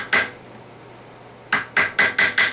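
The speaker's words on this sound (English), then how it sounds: "I'm going to put a screwdriver in here. Let's give it a couple of taps." Screwdriver tapped with a hammer against the 2/4 servo cover of a GM L60E automatic transmission during teardown: one sharp metallic knock, a pause, then a quick run of five close, ringing taps.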